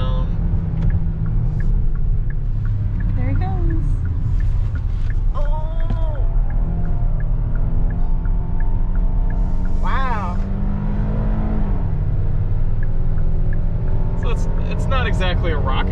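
A 2022 Hyundai Palisade Calligraphy drives and accelerates with a low, steady engine and road drone, while someone talks over it throughout.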